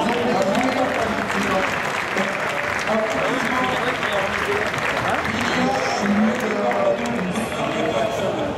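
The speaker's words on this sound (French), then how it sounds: "on peut les applaudir quand même" Audience at the Stunfest 2015 Mario Kart 8 tournament finals applauding steadily, a dense and sustained wash of clapping with crowd noise and a voice over it.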